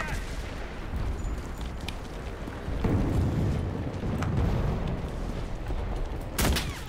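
Mortar fire in the World War II shooter Enlisted, a dense rumbling battlefield backdrop with repeated booms and a sharp nearby blast near the end, with no talk over it.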